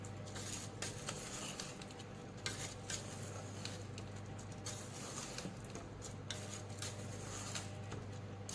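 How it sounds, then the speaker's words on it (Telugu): Rice stirred and mixed in a pot for a Kuwaiti-style Arabic shrimp rice dish, giving soft continuous scraping and pattering with light clinks of a utensil, fairly faint throughout. "బాగా మిక్స్ అయ్యేలాగా కలుపుకోవాలి"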